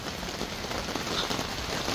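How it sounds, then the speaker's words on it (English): Steady heavy rain pattering on a surface outdoors, a dense continuous hiss of drops at close range with no voices. "if you can hear me over this rain"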